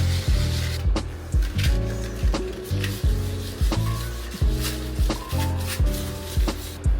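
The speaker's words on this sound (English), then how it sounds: "I came back with some wet 180 grit sandpaper to clean up some of the imperfections I was seeing" Wet 180-grit sandpaper is rubbed by hand over an aluminum inner fender panel for a Jeep JLU, making a steady rhythm of rasping strokes, roughly one per second, close and fairly loud.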